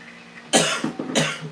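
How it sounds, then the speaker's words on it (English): A cook coughs twice from pepper fumes while preparing food: two harsh, close bursts after a quiet moment, each with a short rough tail. "I have to cough away from the food if you do cough, because peppers do that"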